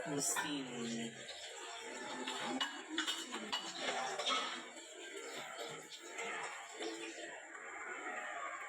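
Spaghetti carbonara being stirred in a pan, with close, steady clinks and scrapes of a utensil against metal and soft saucy stirring, running under continuous talk in the kitchen.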